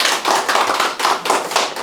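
An audience claps steadily in a lecture hall to welcome a university professor to an urban-farming talk, the applause coming in dense, even waves with no voices.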